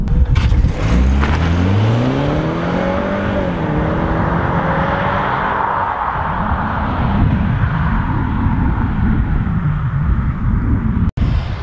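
A BMW car driving and accelerating, its engine rising in pitch through several gear-like sweeps early on, then settling into a steady loud road and engine rumble that continues throughout with no talk.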